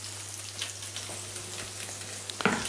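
Breaded green asparagus fries in a pan, a soft steady sizzle and crackle with a low hum underneath, closing with a brief clatter.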